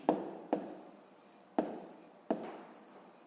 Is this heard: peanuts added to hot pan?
no